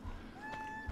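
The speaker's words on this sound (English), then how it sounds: "I was gonna try my hardest to edit all the cat meows out" A pet cat meows softly indoors, a single rising call mid-clip over low background hum, with quiet game music tones in the background.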